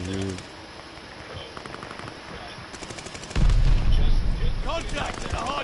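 Gunfire at a hard point in a video game: dense, rapid bursts of shots and booms swell loudly midway and keep going, layered over background game noise and talk.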